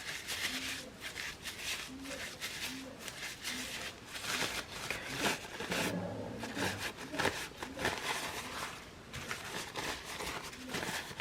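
Oil is rubbed into paper for art journaling, giving a close, papery scraping and rubbing in repeated strokes, with a person talking over it.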